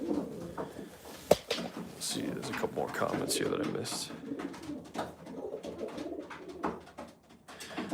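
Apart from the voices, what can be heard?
homing pigeons cooing in the loft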